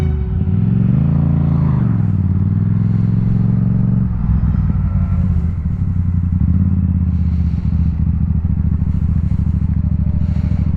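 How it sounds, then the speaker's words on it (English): A Yamaha FZ-07 motorcycle rides along a gravel road, its engine droning steadily and loudly throughout with shifting low rumble and constant road noise, the pitch dipping and changing around the midpoint. "a gravel road on a motorcycle?"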